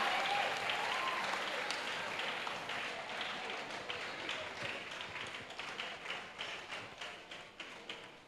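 An audience applauding at a healing service weekend in Port-Bouët: broad, steady clapping that gradually settles into a more rhythmic, pulsing clap and fades slightly, with no talk over it.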